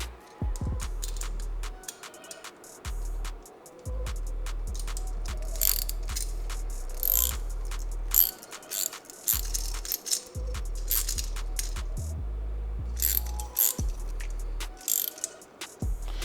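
Bolts on Aprilia RS660 motorcycle parts are tightened with a ratchet, giving close, repeated clicking runs interrupted by metallic clinks and brief pauses.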